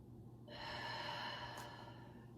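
Slow, audible breaths while holding a yoga stretch for plantar fasciitis, one long close exhale rising softly then fading, in a quiet room.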